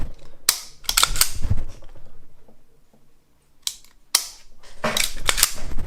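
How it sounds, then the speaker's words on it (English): Dry-fire trigger pulls on a custom-plated Colt Delta Elite pistol with the magazine removed: a few sharp, close metallic clicks and snaps in separate clusters, with quiet handling gaps between them. "let's do a trigger pull."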